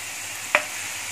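Onion frying in a pan makes a steady close sizzle, with a single sharp clink from the utensil just past the midpoint.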